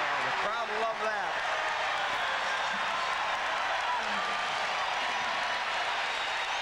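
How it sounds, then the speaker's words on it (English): A sellout basketball crowd at a 1991 Missouri versus Notre Dame game roars after a three-pointer, a dense sustained cheer filling the arena, with a commentator talking over it early on. "Burns hits a three. The crowd loved that."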